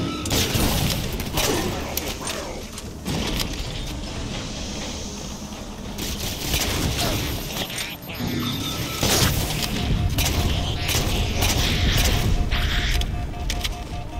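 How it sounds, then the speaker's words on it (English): Halo 4 combat on a Legendary campaign run, with dense, continuous gunfire, plasma shots and explosive crashes from a frag grenade filling the whole stretch, loud and busy throughout. "Frag grenade and plasma shots?"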